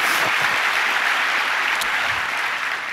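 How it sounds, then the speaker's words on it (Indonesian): A church congregation applauds during a Sunday worship service, a dense, steady wash of many hands clapping at a constant, fairly loud level throughout, with no voices over it. "Berikan tepuk tangan kita untuk Tuhan kita."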